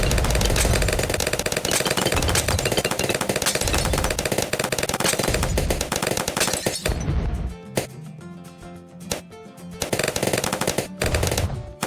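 Rapid sniper gunfire in a video game against a higher-tier Moab: dense, loud shooting for about seven seconds, then sparser, separate shots with gaps between them.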